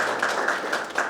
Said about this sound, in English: and with a round of applause